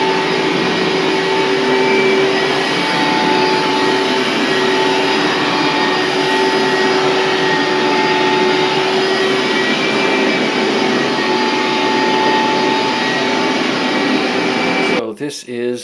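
Carpet cleaning machine on its rinse extraction pass, a loud steady vacuum-like drone with a constant motor whine that runs unbroken for most of the stretch and cuts off abruptly near the end.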